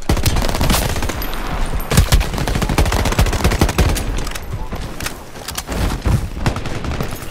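Rapid automatic gunfire from a first-person shooter match in Shatterline, loud and continuous bursts with sharp repeated shots throughout, close up and dominating the mix.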